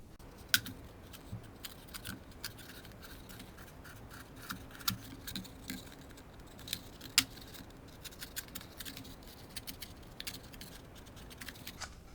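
Scissors carefully cutting a slot for a CD in a homemade spectroscope, likely cardboard, make quiet, close, irregular snips and clicks, faint and with no talking.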